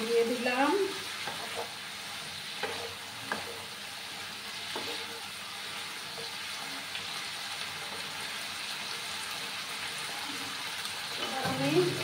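With the lid lifted off, carrots, potato, capsicum and pointed gourd keep up a steady, moderate sizzle in the pan, with a few faint scrapes and clatters near the start and end; no speech.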